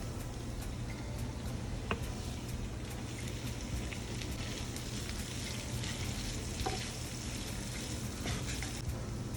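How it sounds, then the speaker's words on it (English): Steady, dense sizzling of steak frying in a hot pan, with scattered crackles and pops throughout and no talking. "now I'm just going to add my steak in"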